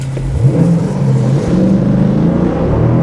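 A Jeep Grand Cherokee SRT, an SUV, launches hard in sport mode to 60 mph, its engine roaring loud and steady throughout with rising revs and no pauses.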